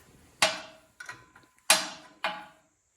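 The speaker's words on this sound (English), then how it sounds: "So I've got a 13 millimeter wrench here. And all we've got to do is loosen this up" A 13 mm wrench loosens the alternator bolt on a Ford 1700 tractor, giving four sharp metallic clanks and knocks in an uneven rhythm, close and fairly loud, with no talking.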